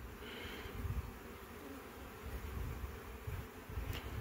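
Honeybees at a hive entrance carrying in pollen, giving a steady, fairly faint outdoor buzzing hum with a few slightly louder swells as bees pass near, no talking.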